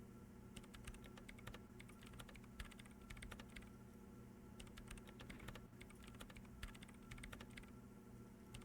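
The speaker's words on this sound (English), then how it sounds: "She has already turned back to her keyboard." Rapid keyboard typing from Disco Elysium, a steady run of dense clicky keystrokes over a low ambient hum, with no voices.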